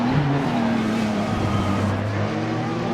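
Group C Nissan race cars in a racing video game roar past with a loud, sustained engine drone. The engine pitch shifts as the cars pass, and no one speaks.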